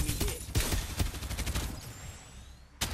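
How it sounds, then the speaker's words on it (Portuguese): Rapid, irregular gunfire from a player spraying shots at random in the battle royale game Farlight, a dense loud burst with sharp cracks through the first half that thins out, then one more shot near the end. "O maluco tá atirando aleatório"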